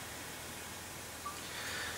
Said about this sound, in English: Hear that fizzing.